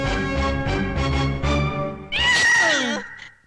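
In a comedy film scene, a cat gives a loud, drawn-out, wavering meow that rises and falls, coming after a stretch of other voiced sounds.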